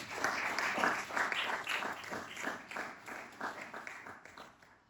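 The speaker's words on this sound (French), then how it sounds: "Est-ce qu'on peut acclamer le Seigneur?" Church congregation applauding and cheering in acclaim of the Lord, a steady wash of many hands clapping with irregular bursts, fairly close and full, slowly tapering off toward the end.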